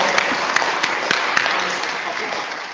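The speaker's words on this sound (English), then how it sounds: "please another round of applause for them" Conference audience applauds in a sustained round of clapping, many hands close together, dense and even with scattered sharper claps, a voice briefly audible beneath.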